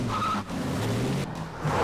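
A car pulls away with tyres skidding, a loud close screech and engine surge lasting under two seconds, with brief dips in the noise.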